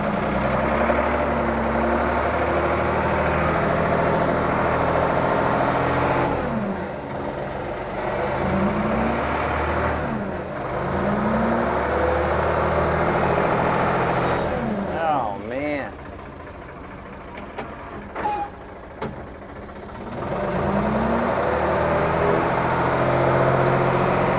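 Rented mini excavator engine straining while reversing on a plunge pond site, a heavy low diesel drone that rises and surges in bursts, briefly easing to a lower idle before revving hard again, with voices talking over it.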